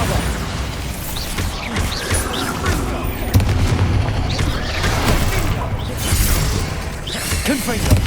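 Bombarda explosion spell in Hogwarts Legacy, heavy booming blasts with crashing, shattering debris and rumbling over several seconds, amid busy combat effects and occasional vocal sounds.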